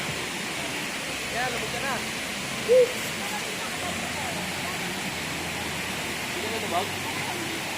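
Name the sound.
waterfall at Paglitawan resort, Tanay, Rizal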